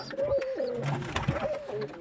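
Pigeons coo softly and repeatedly close by, with low, rolling calls over a steady background murmur.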